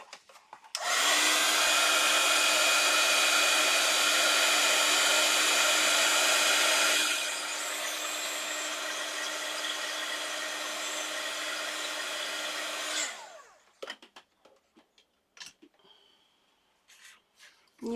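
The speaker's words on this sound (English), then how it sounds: "I'll go ahead and heat set that." A heat tool blows steadily to set embossing powder on a Christmas signature page, a loud continuous whooshing roar that drops to a softer level midway, then cuts off, followed by faint handling clicks.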